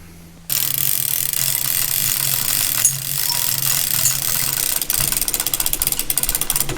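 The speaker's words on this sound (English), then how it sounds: "we just have to cinch up the old chain hoist and see what it looks like under there" An old chain hoist is cinched up to lift the cylinder head off a Caterpillar RD-6 engine. Close, loud metallic ratcheting and chain rattle run continuously and turn into fast, evenly spaced pawl clicks toward the end.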